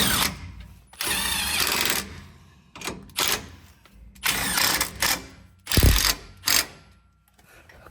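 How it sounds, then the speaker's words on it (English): A ratchet works the rear sway bar bolts on a Jeep Gladiator axle, giving bursts of loud, close mechanical whirring and clicking with short pauses between strokes and a low thump partway through. "we just need to tighten those bolts back up to 41 foot-pounds of torque"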